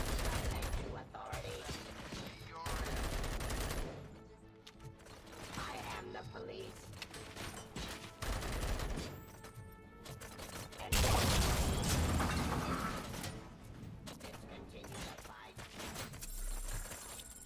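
Gunfire in the video game RoboCop Rogue City: repeated bursts and volleys of shots mixed with mechanical clanks and heavy game sound effects, loud and dense throughout with little pause.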